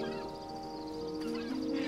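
A bird caws in the adventure video game Broken Age, a harsh sustained call over a steady tonal music bed, moderately loud and with no talk.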